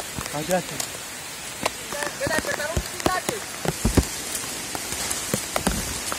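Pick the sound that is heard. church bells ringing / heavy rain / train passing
heavy rain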